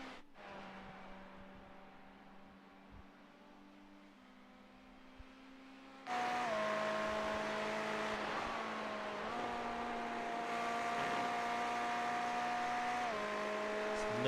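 Race car engine in the iRacing sim during an endurance round at Le Mans, a steady high drone that drops pitch at a downshift and swells louder midway, alone with no talk.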